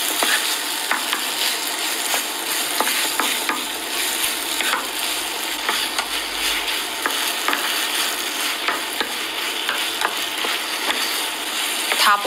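Pasta noodles and sauce being stir-fried in a pan, a steady loud sizzle with repeated scraping stirs throughout, no talk.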